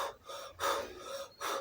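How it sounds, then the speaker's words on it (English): A woman in labour at a general hospital in Nigeria breathing out through contractions, with two or three close, breathy exhalations in slow rhythm and no talk. "All I was only breathing out,"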